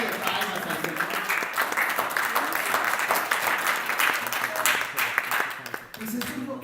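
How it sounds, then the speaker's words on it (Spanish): A church congregation claps during a Spanish-language sermon on the Holy Spirit, a sustained wash of many hands applauding together that stays loud and even before tapering off at the end. "Dale ofrenda de palmas al Señor."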